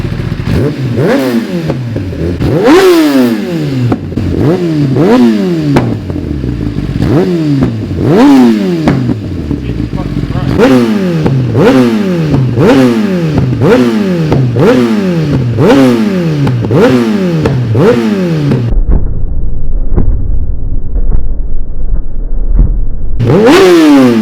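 Nissan GT-R engine revving hard over and over, each rev ending in sharp exhaust pops and bangs as it shoots flames, a steady close, loud rhythm of rising engine surges followed by a brief pause before one last rev.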